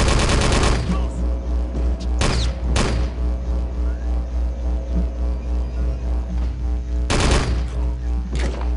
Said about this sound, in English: Let's use MP40